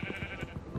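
Sheep in Minecraft bleat in quick repeated bursts, several short nasal cries overlapping in a steady rhythm, close and fairly loud with no talk.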